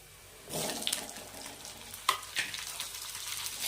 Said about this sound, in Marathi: आता आपण मिरची टाकायची आहे